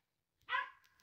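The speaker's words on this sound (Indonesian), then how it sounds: "Si Jacky menggonggong" A hunting dog gives a single sharp bark that tails off into a short whine, close and loud, during a monitor lizard hunt outdoors.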